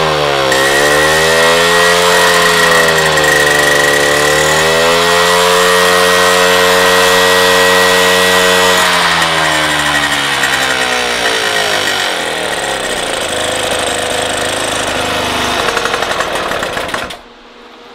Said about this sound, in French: Maintenant que le moteur est chaud, vous voyez, donc il est starter coupé, on va régler le gicleur variable jusqu'à ce que le régime moteur soit optimal.